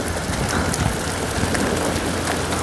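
Heavy rain mixed with hail pours down in the Chopta valley, a dense, loud, continuous hiss of drops hitting the ground and surfaces close by, with no talking.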